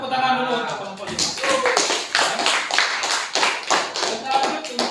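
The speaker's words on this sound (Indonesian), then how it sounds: "tepuk tangan dulu untuk kelompok 5" A classroom group claps together for fellow students after a presentation, steady overlapping hand claps running throughout at close range, with some speech-like sounds mixed in at the start.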